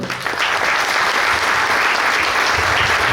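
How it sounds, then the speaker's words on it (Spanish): A studio audience on a football memories programme gives loud, continuous applause, a thick wash of clapping from start to finish. "este aplauso es para ti"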